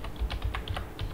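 Keys clatter on a computer keyboard as a file name is typed on a PC, a quick close run of about a dozen light clicks with no talking.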